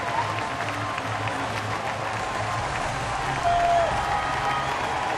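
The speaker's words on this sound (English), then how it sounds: "Listen to that crowd." A home crowd at a Pittsburgh Pirates baseball game against the Miami Marlins roars and applauds after Starling Marte's base hit, a steady, wide-open stadium cheer that holds throughout and swells slightly near the end.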